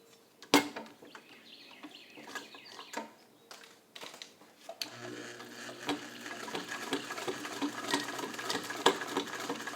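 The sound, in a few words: Singer 66 all-metal sewing machine stitching thick denim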